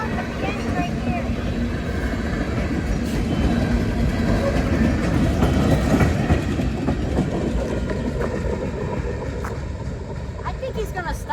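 A CSX slug locomotive and train rumble steadily along the rails with clickety-clack wheel noise as it slows, a continuous loud mechanical roar close by throughout.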